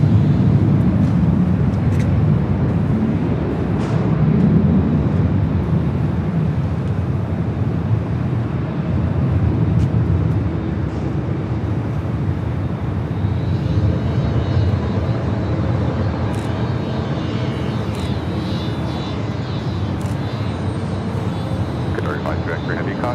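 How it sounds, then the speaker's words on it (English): A Boeing 787 Dreamliner jet, including a Japan Airlines and a KLM 787-10, at Los Angeles International Airport, producing a loud, steady engine roar with wind noise that sustains throughout. "Japan Dreamliner. Flight 61, 8 years old, followed by the KLM 787-10 Dreamliner, heading back to Amsterdam"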